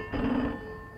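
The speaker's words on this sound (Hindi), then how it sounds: "माता जी, रंजीत भैया का फोन।" A telephone rings in an indoor scene from a 1969 Hindi film, a single short bell burst that rings out loudly and then fades into a quiet room tone.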